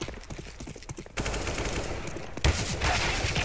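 Gunfire in the video game CS:GO comes as rapid, loud bursts of automatic shots in close succession, dense and continuous across the stretch, with no speech over it.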